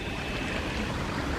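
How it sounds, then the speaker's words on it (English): Clear water in a stream in Lawton bluebell woods flows with a soft, steady trickling rush, faint and even throughout, with no voices. "would we call it a river or would we call it a stream?"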